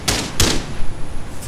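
Two loud, sharp gunshots in Rainbow Six Siege gameplay, spaced a fraction of a second apart, close and punchy, followed by quieter game ambience.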